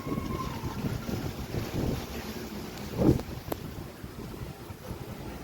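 Strong wind gusts across a rooftop terrace garden, roaring and buffeting the microphone in a continuous rush, with a brief stronger swell midway.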